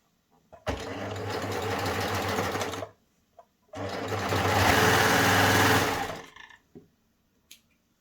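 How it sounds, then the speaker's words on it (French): A four-thread overlocker serger stitching through two layers of fabric runs in two steady, loud whirring bursts of about two seconds each, separated by a short pause, with faint clicks around them. "Hop, je les passe sous la surjeteuse."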